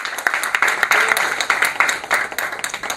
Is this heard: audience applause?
yes